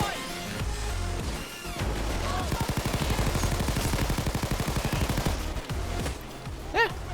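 Chicago Typewriter tommy gun submachine gun firing in Payday 2, a long sustained burst of rapid, evenly spaced shots, loud and close, with other gunfire and crashes around it.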